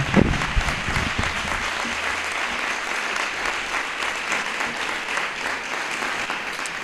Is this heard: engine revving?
no